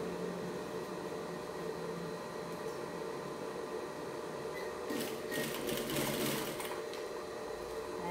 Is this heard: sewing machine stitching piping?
yes